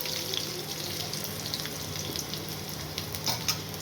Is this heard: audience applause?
no